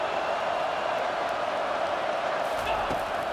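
A stadium crowd in the college football video game NCAA 25, LSU versus Tennessee, roars as a steady, loud wash of noise throughout, with a few faint thumps near the end.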